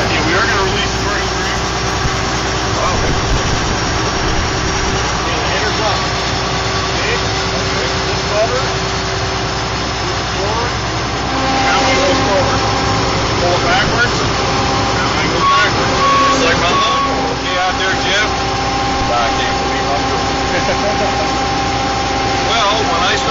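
A combine harvester engine runs steadily after starting, a constant loud low rumble with an idling drone throughout, while people talk over it.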